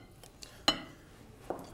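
Metal spoon clinks against a bowl while a dry spice rub of mace, nutmeg and salt is stirred, giving a few sharp taps at irregular intervals, one louder clack in the middle, with low background hum.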